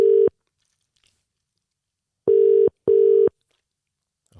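A phone call's tone sounds as steady beeps: one at the start, then a pause, then two more in quick succession, loud and clean against silence.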